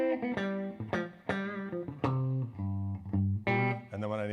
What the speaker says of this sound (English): So this will be my clean sound.